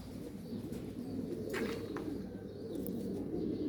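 A male pigeon coos softly, low rolling calls that sit low and blend into a steady background hum, faint and somewhat distant.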